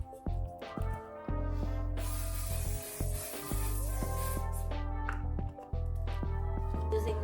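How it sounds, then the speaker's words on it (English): A One Size setting spray gives a brief hissing burst of mist over steady background music, with a quieter spray hiss continuing after it. "I'm gonna use this setting spray from One Size."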